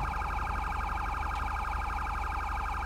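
A loud, continuous electronic sheriff's police siren in GTA 5 wails in rapid rising-and-falling pulses, close and steady throughout with no talking.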